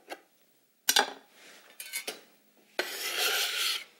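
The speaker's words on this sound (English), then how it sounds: "If the strips are too long, just go ahead and cut them in half once." A knife chops through strips of raw kale on a cutting board in a few sharp, close cuts with short pauses, then a longer rasping scrape near the end.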